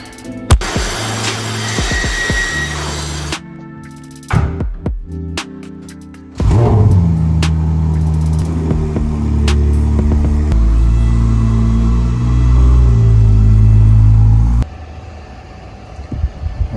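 A Ferrari 296 is started and driven outdoors, its engine revving loud and close with sharp blips at first, then settling into a strong, steady drone that cuts off near the end.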